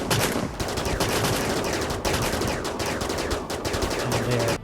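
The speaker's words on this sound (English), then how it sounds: "Mass Effect folks have shown up with their sniper rifles." Sniper rifle fire in a RimWorld game running the RiftWorld mod comes as dense, loud volleys of rapid shots that crackle continuously, with brief gaps between bursts.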